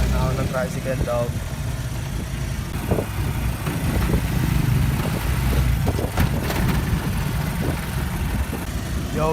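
A tricycle engine idles steadily and close by, a continuous mid-pitched rumble with bursts of nearby talk over it.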